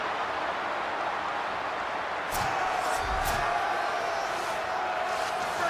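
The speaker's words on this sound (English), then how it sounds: "This Auburn crowd trying to conjure up a little magic here on third down" Auburn stadium crowd in the College Football 27 video game, a steady wash of roaring fans on third down, loud and continuous with a few brief swells and distant whoops rising out of the din.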